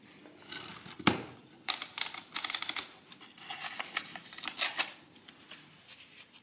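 A rare Lipsia Addi 7 adding machine runs its printing mechanism, giving bursts of sharp mechanical clacks and ratcheting clicks in irregular clusters, fairly close and moderately loud, with no voices.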